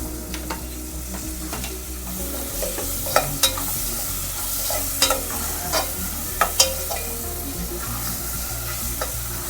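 Tomatoes and turmeric fry in a pan with a continuous sizzle, broken by sharp scrapes and knocks of a spoon stirring at close range every second or two.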